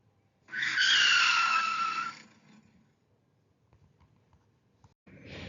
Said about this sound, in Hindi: पास से गुजर रही एक गाड़ी आकर रुकती है।